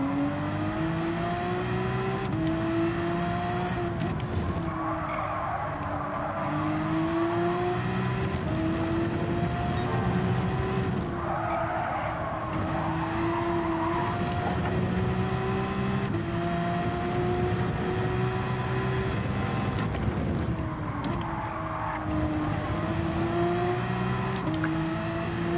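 A race car engine in the Gran Turismo 7 video game drones continuously, its pitch rising and falling through gear changes as the car accelerates and brakes around a track.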